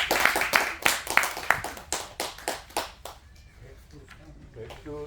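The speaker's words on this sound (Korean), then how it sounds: "박수 칠 준비하세요." Audience members at a roundtable talk on peace and reunification clap together in a steady rhythm, sharp repeated claps about three per second that soften and fade out, followed by a faint voice near the end.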